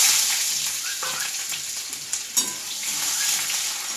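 Onion dropped into hot oil in a wok after whole garam masala and a bay leaf, sizzling loudly and steadily up close with a few stirring scrapes.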